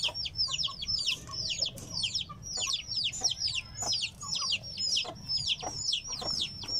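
Heera breed hens and a rooster out in an open field, clucking and squawking repeatedly in quick bursts, fairly faint, with soft background noise between calls.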